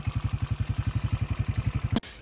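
Thunder Bullet 180cc cafe racer motorcycle engine running close by, a loud steady low thumping pulse of about ten beats per second, cutting off abruptly near the end.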